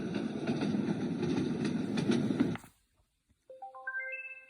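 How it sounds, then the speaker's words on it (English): A Reacher R2 white noise machine plays a train-on-tracks loop, a steady rumbling clatter with rhythmic clicks that stops abruptly, followed by a short rising electronic chime sequence. "Train tracks."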